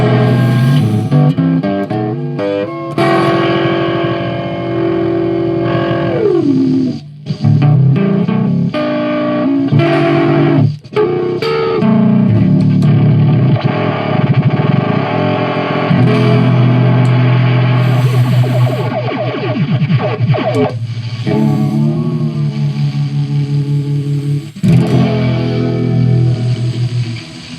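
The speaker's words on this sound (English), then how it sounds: "what you're hearing is the Dolmen plugged directly into a speaker cabinet, no amp." Electric guitar runs through a Dolmen pedal plugged straight into a speaker cabinet with no amp, giving a loud, sustained distorted tone with shifting, warbling notes and brief gaps, heard alone for the whole stretch.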